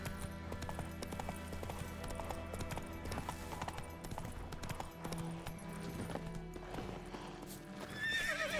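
Horse in The Witcher 3 video game, steady clip-clopping hooves at a gallop with whinnying, close and continuous amid game ambience, with no speech.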